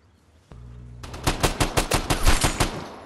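Rapid burst of automatic gunfire in the video game Vigor, about a dozen sharp, loud shots in quick succession after a short lead-in.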